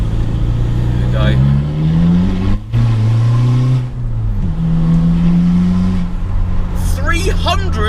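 Volkswagen Bora PD diesel on the Mark 4 platform revs through a straight-pipe exhaust, a deep throbbing drone that rises and falls across several loud pulls, heard up close with a brief dip between revs.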